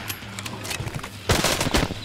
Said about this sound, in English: I shoot him, I guess!